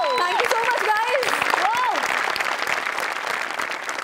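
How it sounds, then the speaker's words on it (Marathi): Loud, steady audience applause from a comedy show crowd fills the whole stretch, with a voice calling out over the clapping near the start. "मला वाटतं त्या दोघांसाठी सुद्धा जोरदार टाळ्या झाल्या पाहिजे"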